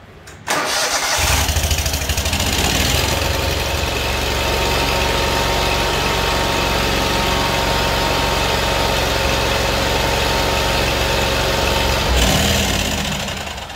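A Kohler Command Pro 25 engine on a Great Dane zero-turn mower cranks and catches, then runs at a loud, steady idle close by for over ten seconds before a brief change in pitch near the end.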